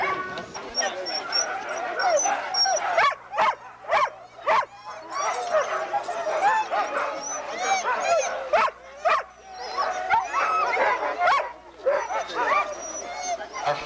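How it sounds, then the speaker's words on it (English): Sled dogs at the starting line of the Can Am Dog Sled Races, 1995, bark, yip and whine constantly, a loud, close chorus mixed with people talking nearby. "Our first team of dogs is in front of us right now at the starting line."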